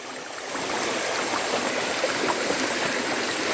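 Sai Thong waterfall stream in a Thai national park, a loud continuous rush of flowing water that rises in the first half second and then stays steady and close.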